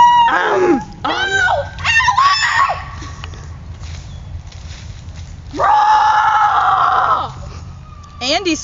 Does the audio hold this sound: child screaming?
yes